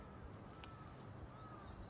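A crow caws once, faint and distant, over steady rural nighttime background noise in a dark provincial area.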